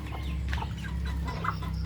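Backyard chickens cluck softly while pecking at their feed, a few short scattered clucks over a low steady background, fairly close.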